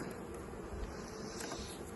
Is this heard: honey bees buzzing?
yes